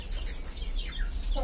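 A breeder fighting rooster on a breeding farm clucks briefly, near and moderately loud, amid outdoor farm background noise.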